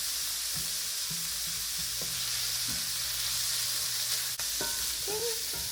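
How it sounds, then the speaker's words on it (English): Canned chicken sautéing with onion and garlic in a pan, giving a steady close sizzle with a few soft stirring scrapes, no voices. "I'm going to saute this together with the onion and garlic for a few minutes"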